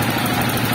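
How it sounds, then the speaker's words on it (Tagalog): A Kawasaki TMX 155 motorcycle engine after a general overhaul idles steadily at close range, a continuous low rumble with a buzzy mechanical texture and no pauses. "Napakaganda yung andar ng makina mga bro."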